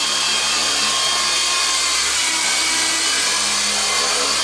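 A WLtoys V912 RC helicopter flying indoors gives a steady, loud, high-pitched motor and rotor whine that holds constant throughout, with no voices.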